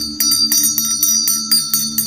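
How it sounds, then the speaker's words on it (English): A hand bell rung repeatedly in a steady, evenly spaced rhythm, each bright metallic strike ringing on over a low sustained hum, loud and close with no talking. "Got to ring the bell."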